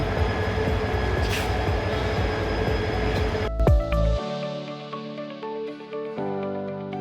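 A passenger train bound for Cox's Bazar, Bangladesh, rumbles steadily with a broad mechanical roar and tonal hum, then shifts to quieter whining tones after a sudden clunk.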